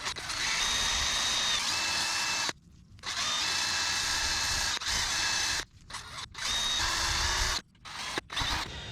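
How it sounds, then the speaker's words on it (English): A small drill spins a mini wire wheel, cleaning front brake parts on a 2004 Nissan Armada, in loud bursts of harsh, gritty whirring, stopping briefly between runs. "I've just got this little mini wire wheel on a drill"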